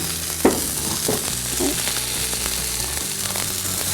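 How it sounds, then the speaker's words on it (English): Potatoes sizzling in oil in a pan over medium heat, a steady close frying hiss throughout with a few soft clatters as they settle, no talk. "I'm going to take the potatoes, I'm going to place them in the pan"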